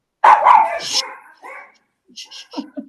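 A dog barks several times, loud and close, with a short whimpering yelp, then fainter yips after a pause, in a small community in Colombia.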